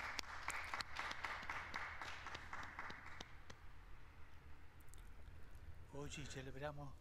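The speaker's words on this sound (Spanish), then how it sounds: "Un aplauso a los nuevos beatos." Crowd applause for newly beatified martyrs at the Sunday Angelus, a dense clapping that dwindles after a few seconds into open-air murmur before a voice begins speaking.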